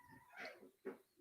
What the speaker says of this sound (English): So I got a dog distracting me in the background.